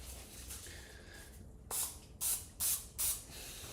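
Cooking spray is sprayed onto a muffin tin in four short, close hissing bursts in quick succession after a quiet start, with no talking.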